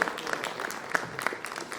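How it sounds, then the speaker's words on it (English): Audience applause at an award ceremony for an environmental honour, a steady patter of many hands clapping at moderate distance in a hall, continuing without voices for under two seconds. "Let's give a huge round of applause to our Paryavan Ratna awardee."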